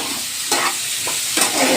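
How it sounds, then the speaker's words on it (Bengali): Soybean chunks fry in a pan at home, a continuous close sizzle broken by a few scraping stirs. "সয়াবিনটা একটু ভেজে নিচ্ছে"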